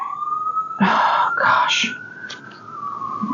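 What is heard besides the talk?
sirens from traffic on nearby highway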